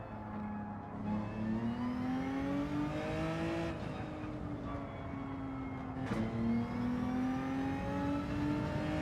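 McLaren race car in Gran Turismo 7 accelerating hard, a steady mid-pitched engine note climbing through gears with two shift breaks, continuous and close throughout.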